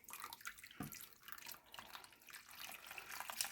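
Chicken stock poured from a container into a pot of chicken pot pie filling gives a soft, steady splashing trickle that runs for a few seconds, faint and heard alone.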